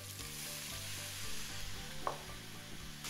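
Meat, sweated onions and garlic sizzle in a pan as red wine goes in for Greek pastitsio, a soft, steady hiss with light stirring and one small clink near the end.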